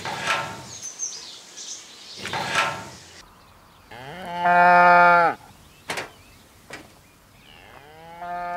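Cows moo loudly at close range, several long lowing calls alternating with shorter noisy bursts and gaps, with no talking.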